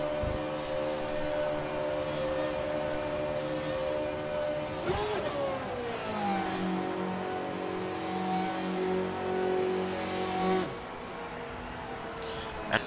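A Formula 1 car in the F1 2012 video game at the Shanghai circuit drones steadily, then its engine note drops sharply as it downshifts and slows into the pit lane, settling into a lower, even hum.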